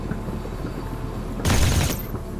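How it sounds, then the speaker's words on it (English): A small machine gun fires in The Riftbreaker, a sharp, dense burst lasting about half a second that rises loud over a steady low game hum, then cuts off. "A small machine gun to start with."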